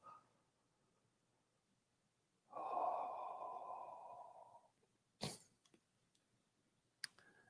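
A long, forceful exhale through the mouth or nose during a guided breathing exercise, a steady rush of breath lasting about two seconds after a quiet pause, followed by a couple of short sniffs and clicks.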